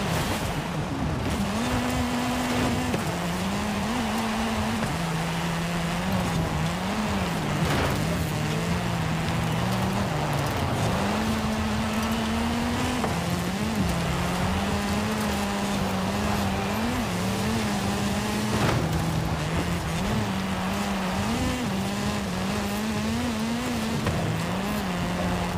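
A race car drives hard in Forza Horizon 5, its engine droning continuously with the pitch rising and dipping through gear changes and corners, steady and close for the whole stretch with no talk.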